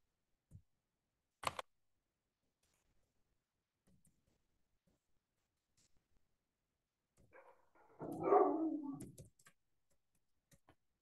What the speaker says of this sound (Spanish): se le escuchó un perro que ladró